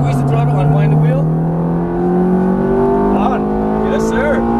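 A Ferrari F430 on a racing track accelerates hard, its engine note climbing steadily through the rev range, loud and close, with brief tire noise and a coach speaking over it.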